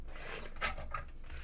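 A paper trimmer slices through craft paper for a scrapbook foilo, giving a quiet, brief rasping rub with a slightly louder swipe near the middle.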